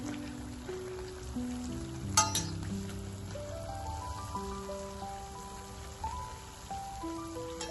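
Jalebi spirals deep-fry in hot oil, giving a continuous, rain-like crackle and bubbling that sits under steady background music, with one brief sharper burst partway through.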